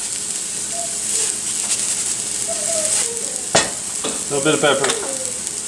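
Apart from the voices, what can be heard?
garlic sizzling in a hot pan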